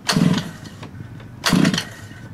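Two pull-start attempts on the gas engine of a Losi 5ive T RC truck, each a short, loud, close rasping burst of cranking about a second apart, with no running engine following.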